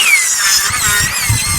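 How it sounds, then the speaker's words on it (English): A power saw rips lengthwise through a 2x4 board, a loud continuous high whine with wavering pitch that holds steady throughout. "now I'm going to rip a 2x4 to fit that gap"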